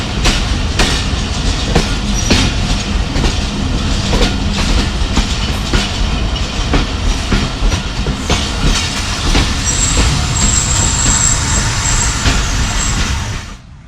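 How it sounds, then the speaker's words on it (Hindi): Sir Syed Express train running through a single-line crossing, a loud continuous rumble with rhythmic clickety-clack of wheels over rail joints, close by and steady throughout, with a high squeal near the end. "36 down sir Syed express approach कर रही है। सिंगल लाइन क्रॉसिंग है और ये थ्रू पास होगी।"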